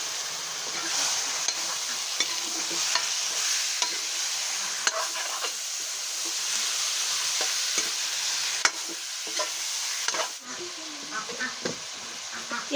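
Duck meat dropped into a hot pan over fried onions, a continuous sizzling hiss with scraping and stirring clicks, while a person talks over it.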